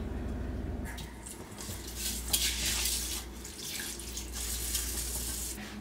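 Rice being washed in water, with running water and a hollow sloshing and rattling in a bowl, fairly quiet and continuous with brief louder splashes, and no talking.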